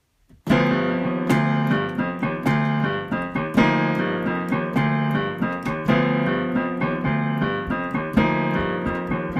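Piano chords from a piece sound over a steady, repeating low bass figure, played at a moderate, even pulse with clear note attacks and no voices.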